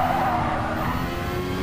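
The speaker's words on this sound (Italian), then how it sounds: "Chiaramente dovete gestire anche le scodate dell'auto." A race car's tail slides out in the Gran Turismo Sport video game, giving a loud, sustained tire squeal and skid over a steady engine drone for under two seconds.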